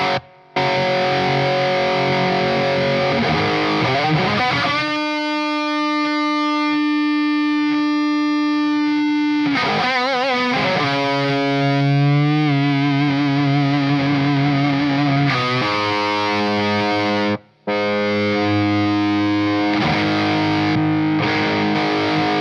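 An electric guitar played through a Warm Audio Centavo overdrive pedal, the signal pushed until it clips: loud, sustained distorted chords and ringing notes with a gritty, saturated edge, heard alone for over twenty seconds with only brief gaps.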